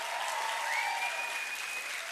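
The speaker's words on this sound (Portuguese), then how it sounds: "palmas para os voluntários da Ponte aqui" An audience applauds volunteers at a Christian conference talk, a steady wash of clapping throughout with a faint whistle-like tone gliding above it.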